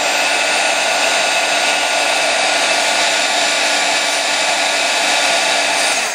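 A heat tool blows steadily and loudly, melting clear embossing powder on a canvas craft piece with a continuous broadband whoosh that never lets up.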